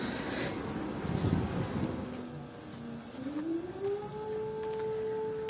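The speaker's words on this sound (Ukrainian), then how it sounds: "Повітряна тривога у Миколаєві." A civil defense air raid siren sounds in Mykolaiv, rising into a long, steady wail at a distance after gusty, rustling outdoor noise at the start.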